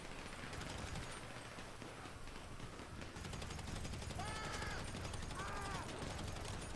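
Rapid gunfire in the video game GTA, sustained crackling bursts aimed at the player, running continuously beneath a busy game soundscape with other effects layered over it.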